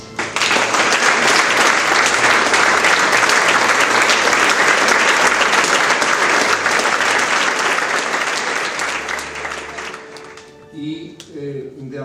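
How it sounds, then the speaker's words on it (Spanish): Loud, sustained applause from delegates at a union meeting in Valencia, dense clapping that fades out toward the end before a few voices and a low thud follow. "Y este aplauso va para vosotros."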